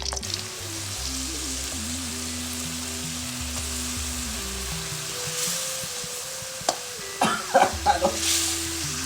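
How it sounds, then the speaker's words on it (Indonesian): Steady sizzling and crackling of seasonings frying in a pan for tempeh orek stir-fry, with a low hum underneath and a few clinks of utensils near the end. "Samaraan digoreng dulu"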